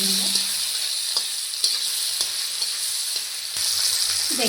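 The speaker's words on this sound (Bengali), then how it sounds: "ভালো করে ভেজে নেব।" Bitter gourd slices with turmeric and salt fry in hot oil in a wok, a steady close sizzle with occasional stirring scrapes and clicks, no voices.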